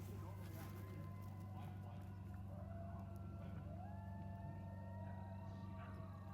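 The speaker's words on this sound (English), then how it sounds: "You hear those coyotes?" Coyotes down a hill in the Ozarks call with faint, wavering, siren-like howls that rise and slide in the distance against a steady low hum.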